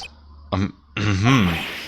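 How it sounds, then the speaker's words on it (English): A character in the Phoenix Wright: Ace Attorney video game clears their throat in a short gruff burst followed by a longer rumbling "ahem", close and fairly quiet. "Maybe I should clear my throat?"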